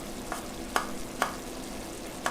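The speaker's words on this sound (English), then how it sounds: "And this is already boiling, this is pretty good. Let it thicken up a little bit." Thick General Tso's tofu sauce bubbling in a pan while a utensil stirs it, a steady sizzle broken by three or four sharp scraping clicks at irregular intervals, close and moderately loud.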